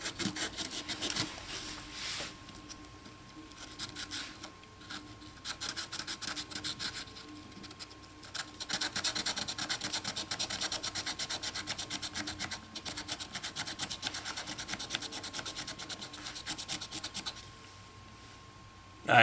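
Sandpaper rubbing on a Mosin Nagant M91/30 trigger part in small, even back-and-forth strokes, a continuous close scratchy rasp that stays steady for most of the stretch and then eases off near the end.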